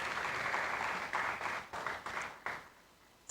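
Audience applause at an academic scholars' dialogue forum, fairly faint and distant, steady clapping that breaks into a few separate claps before dying away.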